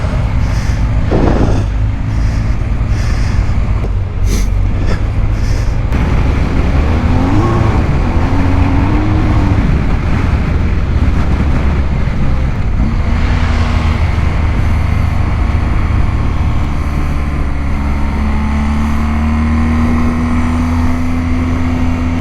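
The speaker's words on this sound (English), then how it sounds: "Marble Kid testing out the traction control." A motorcycle engine revs and rises in pitch while traction control is tested in a Harley versus BMW GS outing, heard at a distance beneath a constant roar of strong wind.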